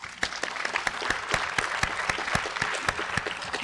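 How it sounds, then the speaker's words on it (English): An audience at a forty-under-forty awards event applauds, a steady bed of clapping with a few sharp, close individual claps standing out in a loose rhythm. "Round of applause"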